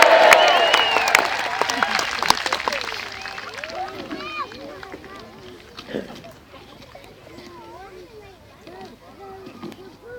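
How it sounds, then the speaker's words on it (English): Crowd at a Battle of Bannockburn reenactment cheering for Robert the Bruce, a loud burst of applause and shouts that fades over several seconds, leaving scattered voices and chatter. "Big cheer for Robert the Bruce, please."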